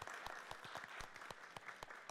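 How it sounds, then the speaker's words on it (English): An audience at a public hearing on bias-related bullying bursts into sustained applause, dense rapid clapping from a crowd, fairly loud and steady with no talking over it. "let's give her a round of applause for being here"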